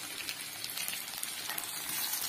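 Onions and tomatoes fry with ginger and garlic in a pan, giving a steady, dense sizzle that crackles and pops close by without pause, with no talking.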